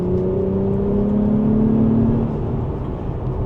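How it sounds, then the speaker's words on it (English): A 2024 Acura TLX Type S with SH all-wheel drive accelerates on a dry road, its engine note rising steadily with small pitch shifts from quick downshifts and upshifts, heard close and continuous from inside the car without talk. "Oh, you can hear the little downshifts and upshifts that it's doing."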